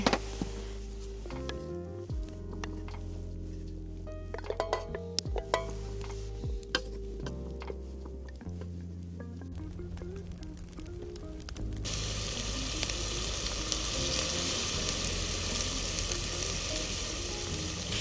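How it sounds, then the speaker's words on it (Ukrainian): Assorted meat frying in oil on a camp stove at a winter campsite by the sea, a steady close sizzle that grows fuller and louder in the second half, with clinks and stirring taps early on. "Починаємо ми з підсмажування наших м'ясни, нашого м'ясного асорті"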